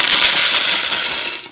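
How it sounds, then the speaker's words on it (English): A loud, dense rattling rush of dry pasta spilling into a metal pot, lasting about a second and a half. "I pour my pasta in the pot."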